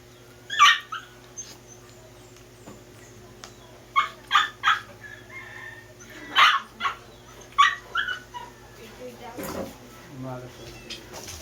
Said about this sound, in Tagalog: Binato ko muna mga bayang aso, ang ingay.